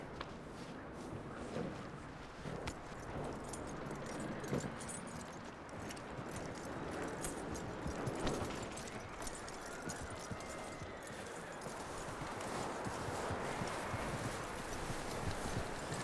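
Horse hooves clip-clop steadily across ground in Red Dead Redemption 2, a continuous rhythmic walking gait heard up close with faint ambient background and no talk.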